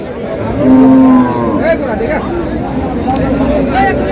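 A long, close cow moo rises over a noisy outdoor crowd at a cattle market in Deohata, Tangail, with people chattering and other livestock sounds around.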